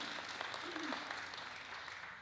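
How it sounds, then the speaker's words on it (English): Quiet audience applause at a Rotary club meeting for the Students of the Month, steady light clapping from a modest crowd heard at a distance throughout. "Everyone applause for them"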